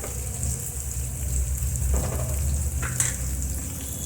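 Onions and green chillies fry in a pan with a steady, close, dense sizzle and crackle throughout, with no talk.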